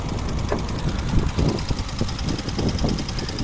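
A 2007 Mercedes B170 1.7-litre petrol engine idling nearby, a steady low rumble with a faint rhythmic ticking, loud and continuous, no voices.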